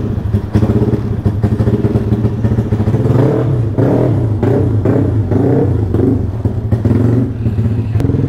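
Yamaha Aerox scooter engine revving up close, loud rising and falling throttle blips with a raspy exhaust note and mechanical clatter, no talking.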